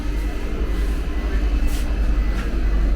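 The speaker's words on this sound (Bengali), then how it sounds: "ফাইনালি ট্রেনটা ছাড়লো।" A Vande Bharat express train pulls out of the station, heard from inside as a loud steady low rumble with faint hissing bursts.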